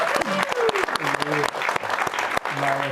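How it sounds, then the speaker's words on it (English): An audience clapping at a BYU basketball player's talk, steady applause at moderate distance with a voice speaking over it. "Can we clap that one up?"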